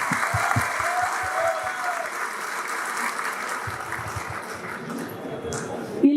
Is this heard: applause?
yes